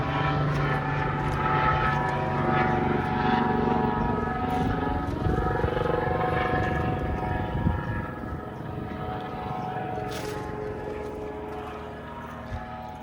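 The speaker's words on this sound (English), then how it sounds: "Maybe a bit from the helicopter that just went over" A helicopter passes overhead outdoors near a quietly running air source heat pump, its rotor drone loud and continuous at first, then gradually fading as it moves away.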